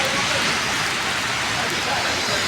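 Heavy rain pours down in Saudi Arabia, a dense, loud, continuous hiss of downpour close to the recording phone, with no break for the whole stretch.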